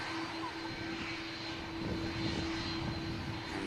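Continuous engine roar from a Virgin Atlantic airliner climbing away after takeoff at Manchester Airport, a steady moderately distant drone with a faint tonal whine and no voices.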